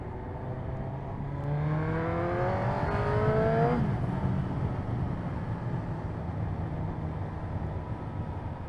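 A Suzuki GSX-R 1000 streetfighter motorcycle revs up through rising engine tones during a ride, then settles into a steady roar against constant wind rush, close and loud throughout with no speech.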